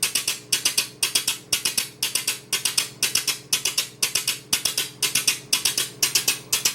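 Closed hi-hat programmed on a Subtractor synth in the Reason 6 sequencer, a steady looped pattern of crisp, bright ticking hits in rapid groups, prominent and even throughout, with no voices.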